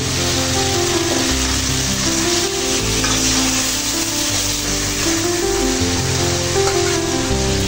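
Cut potatoes and vegetables frying in a cooked-down spice paste for a tomato-potato taki fish curry. Loud, dense, continuous sizzle close up, with no talk.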